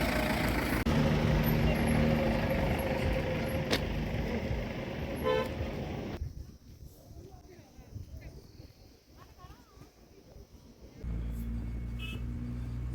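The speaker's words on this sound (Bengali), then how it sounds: "গাড়ি ছেড়ে দিয়েছে, চলেছে কার্শিয়াংয়ের উদ্দেশ্যে।" A bus on the hill road from Siliguri toward Kurseong and Darjeeling roars loudly with engine and road noise and gives a horn toot. The noise drops away for several seconds, then the engine rumble returns.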